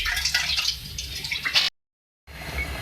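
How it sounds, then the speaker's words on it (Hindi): Meat broth from boiled beef pours into a cooking pot of Balochi aloo gosht, a close splashing, trickling stream that cuts off abruptly, then a softer liquid sizzle resumes. "जो मैंने बॉईल किया था गोश्त, उसी की यखनी है, मैं इसमें वो शामिल कर रही हूँ"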